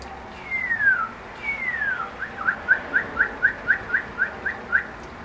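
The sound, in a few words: cardinal calling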